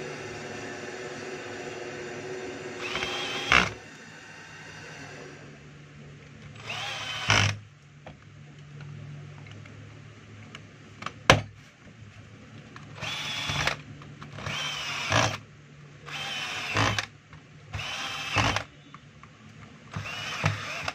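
A power drill backs screws out of a Stanley STEL670 heat gun casing in short separate bursts, about six or seven whirs spread over twenty seconds, fairly close, with quiet handling noise between them.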